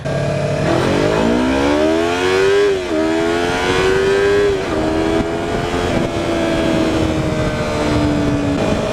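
A Yamaha R3 motorcycle engine on a test ride, loud and steady, revving up and shifting through gears with rising and falling whine, plus wind rush, no talk.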